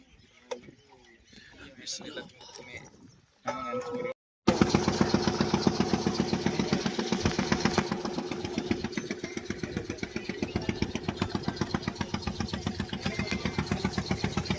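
After some brief muffled sounds, a motor kicks in and runs loudly with a fast, steady chugging pulse, close by and continuous.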